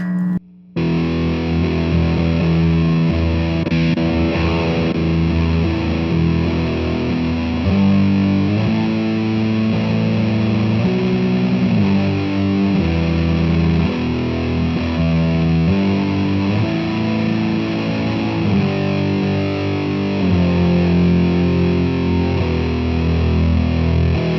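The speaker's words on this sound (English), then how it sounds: "So Fuzz sounds like this." An electric guitar plays through the fuzz setting of a Line 6 Flextone II amp, thick and buzzing, with chords and riffs ringing loudly and continuously.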